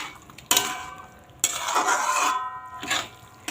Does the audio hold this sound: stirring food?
yes